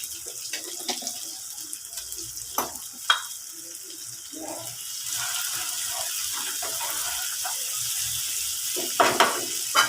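Ginger garlic paste fries in oil with a soft, steady sizzle, broken by occasional clinks and stirring scrapes that stand out briefly.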